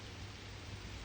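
Steady soft hiss of rain beginning to fall outdoors near fruit trees, even and continuous with no voices.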